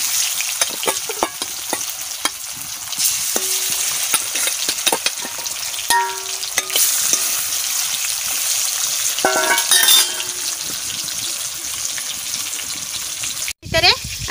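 Flower fritters fry in a pan with a steady, loud sizzle while a utensil scrapes and stirs at intervals, and a voice speaks briefly over it.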